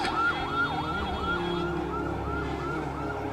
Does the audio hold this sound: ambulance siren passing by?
yes